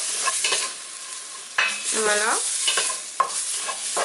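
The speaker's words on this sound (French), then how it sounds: "je vais essayer de remuer et de faire roussir un petit peu la farine" Flour being stirred as it browns in a frying pot for a quick beef bourguignon, a steady scraping sizzle with a few louder stirring strokes, close and mostly alone apart from a brief spoken word.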